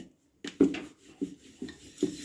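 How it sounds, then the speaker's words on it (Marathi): Wheat flour dough ball being rolled into a flatbread with a rolling pin for a spicy salted paratha, giving soft, close rubbing thumps in a loose rhythm of about five strokes with quiet gaps. "आता आपल्याला या गोळ्याची पोळी करून घ्यायची आहे."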